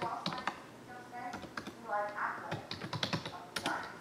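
Fingers type on a computer keyboard in uneven bursts of light clicks, close and quiet, while a person murmurs nearby.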